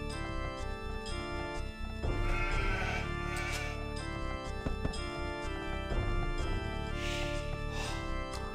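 Sheep bleating in the video game Age of Empires 2 HD, a few repeated animal calls layered over game music and sound effects, with no talking.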